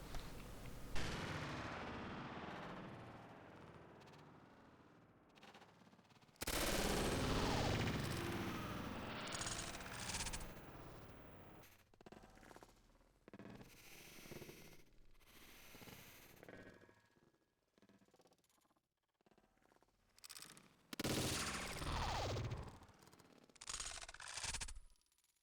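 Sniper rifle quickscope shots in the PC shooter Combat Arms come as bursts of game gunfire and loud blasts separated by quieter gaps, with sharp cracks standing out across a dense, noisy battle soundscape.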